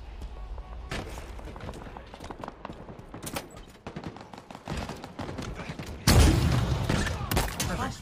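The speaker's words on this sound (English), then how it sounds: "Rocket launcher." Rocket launcher firing in Halo, a loud broadband blast at about six seconds that rolls on for a couple of seconds, following a dense stretch of rapid gunfire crackle with speech mixed in.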